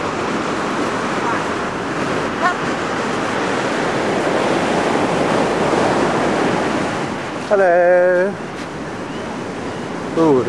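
Surf rolls in steadily at a Cape Town beach on a wintry day, a loud, continuous wash with wind buffeting the microphone, and a brief burst of talking near the end.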